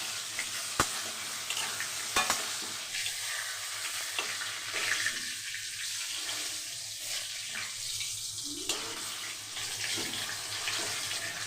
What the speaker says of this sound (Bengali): আলুটা বেশ লাল লাল করে ভাজা হচ্ছে।